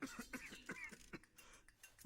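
An anime character in a Naruto episode coughing in a series of short, dry coughs at an uneven rhythm, quiet and thin, with faint clinks of dishes and cutlery in the background.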